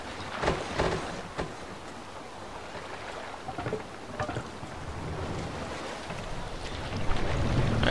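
A Viking longship rowing through open water in Assassin's Creed Valhalla: continuous wash of waves and wind with periodic oar splashes, fairly even and moderately loud, and no voices present.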